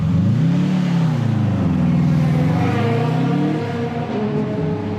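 A race car engine at Spa Francorchamps during a Supercar Challenge round, loud and close, its pitch rising and falling through gear changes before easing off as the car passes.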